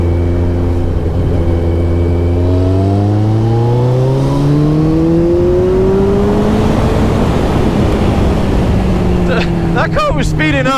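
A Kawasaki ZZR1400 accelerates hard in third gear to overtake, its engine note rising steadily in pitch and loudness, with heavy wind rush throughout.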